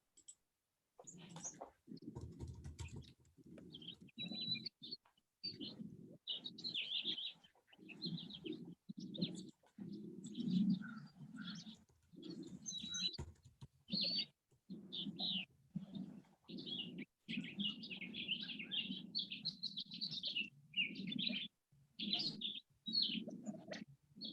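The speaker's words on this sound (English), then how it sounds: "I can hear the quails and the house finches on your camera now, Jim" Small birds at a feeder, including quails and house finches, give soft intermittent chirps and calls alongside repeated light clicking and tapping, quiet and close.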